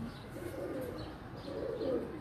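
A pedigree breeder pigeon coos softly nearby, two low rolling phrases separated by a brief lull, with faint chirps over a steady ambient hum.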